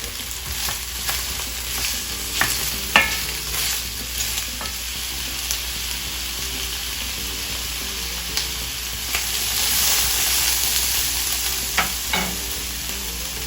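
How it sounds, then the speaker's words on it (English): Vegetables sauté in a hot pan with a steady close sizzle, punctuated by scraping and tapping as a utensil stirs them against the pan. "I'm going to opt to sauté the vegetables first"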